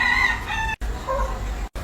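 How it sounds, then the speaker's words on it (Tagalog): A fighting rooster crows loudly and close by, giving two drawn-out cock-a-doodle-doo calls back to back with a short gap between them. "Yung panabong na manok."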